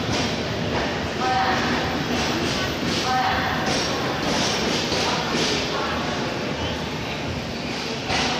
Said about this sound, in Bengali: 12316 অনন্যা এক্সপ্রেস এবার আসছে আগ্রা ফোর্ট স্টেশনে।